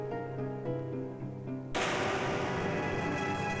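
A single gunshot in a Hindi TV drama set among royal estates cuts in suddenly after quiet tonal music, a loud broadband blast that leaves a sustained noisy roar.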